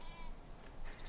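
A young lamb on a frontier homestead farm gives a faint, wavering bleat that sits under a quiet, noisy outdoor background, brief and a little distant.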